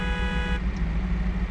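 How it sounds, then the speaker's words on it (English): A car horn honks in a car-building video game with scuffed car builds, one steady blaring tone that cuts off abruptly, leaving a low engine rumble underneath. "What you honking about?"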